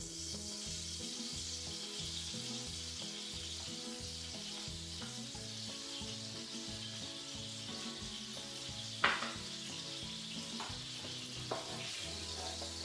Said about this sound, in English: So this is Desi ghee I'm adding.